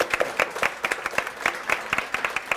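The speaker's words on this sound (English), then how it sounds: "Just a nice round of applause for Jeanette." A small audience at a live comedy panel claps in a brief round of applause, moderately loud with distinct individual claps.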